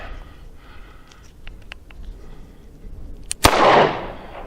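A Smith & Wesson M&P Bodyguard .38 Special revolver fires a single loud, close shot late on, followed by a brief ringing decay, after a few quiet handling clicks.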